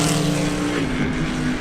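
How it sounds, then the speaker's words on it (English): Chevrolet C8 Corvette Z06 with a naturally aspirated flat-plane-crank V8, tested on Southern California roads, passes with a loud, steady engine drone and strong harmonic tones that shift slightly as it goes by. "it's going to have the same flat plane crank V8 naturally aspirated engine as that C8R"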